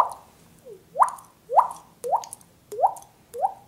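A voice imitating water drips beatbox-style, six evenly spaced, resonant plops with a rising pitch, close and clear with nothing else behind them.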